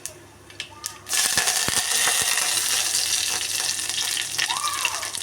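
Curry leaves dropped into hot oil for rasam burst into a loud, close sizzle after a second of quiet clatter. The crackling hiss then holds strong and steady until the end.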